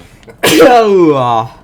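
A single loud, close sneeze with a short sharp intake followed by a long drawn-out voiced burst, then quiet.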